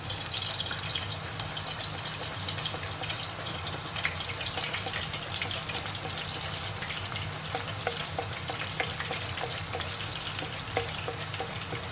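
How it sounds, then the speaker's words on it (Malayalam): Plantain pieces fry for chips in hot oil with a dense, steady sizzle and crackle of fine pops, continuous and fairly close for about twelve seconds, no talk. "എന്നിട്ട് തുണ്ട് പൊളിച്ചിട്ട് ഒന്ന് വറക്കാം നമുക്ക്."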